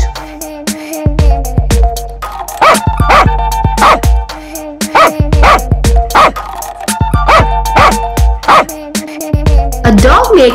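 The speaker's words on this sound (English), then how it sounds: "A dog makes a woof sound." A dog gives loud, close, repeated woofing barks in a rhythmic pattern over a dense musical backing.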